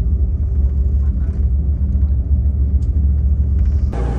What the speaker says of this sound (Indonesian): Ini sekarang posisi bus berjalan di daerah Turen